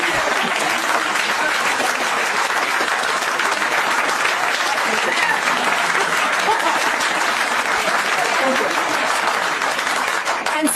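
Sustained audience applause from a crowd, dense continuous clapping at steady loudness throughout, with a faint murmur of voices mixed in.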